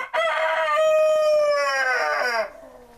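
An Orloff rooster gives a single clear, loud crow close by, a sustained harmonic call lasting about two seconds that falls off at the end, with no other sound around it.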